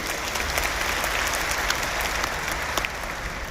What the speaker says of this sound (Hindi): एक बार जोर से सभी महिलाओं के लिए ताली बजाइए